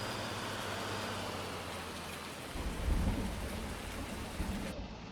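Rain and thunder in Farming Simulator 19: a steady hiss of heavy rainfall with a deep rolling thunder rumble swelling midway, loud and continuous, no talking.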